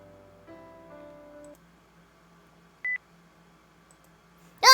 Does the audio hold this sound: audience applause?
no